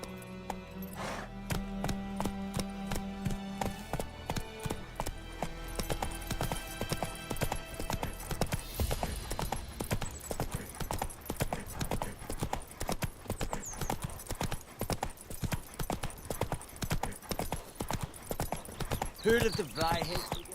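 Roach the horse walks in The Witcher III, with a steady, clear clip-clop of hooves over game music and some voices.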